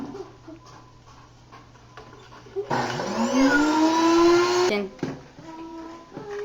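A home grain mill grinds wheat in a kitchen, whirring on with a rising electric whine and roaring steadily for about two seconds before cutting off, with quieter kitchen sounds before and after.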